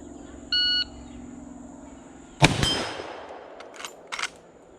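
A shot-timer beep sounds briefly, then about two seconds later a single loud rifle shot from a Marlin 336 lever-action carbine in .30-30 Winchester cracks and echoes, followed by faint metallic clicks of working the lever.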